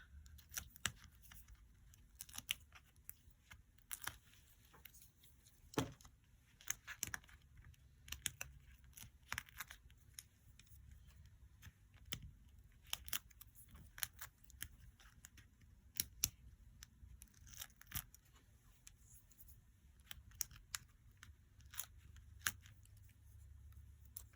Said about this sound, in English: you're going to remove the backing from all these squares